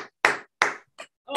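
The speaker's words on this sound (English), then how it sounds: "Unmute and clap" Online meeting participants unmute and clap, giving a few separate, sharp handclaps with short silences between them, coming thinly through a call connection.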